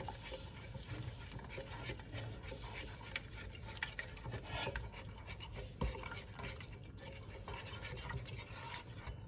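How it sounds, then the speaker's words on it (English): Kei apple fruit and sugar simmering into jam in a pot, a steady low bubbling with faint patter and occasional spoon stirring and scraping sounds close by, no talk. "Now, just continue to simmer the fruit and sugar until the jam sets."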